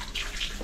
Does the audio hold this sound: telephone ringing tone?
no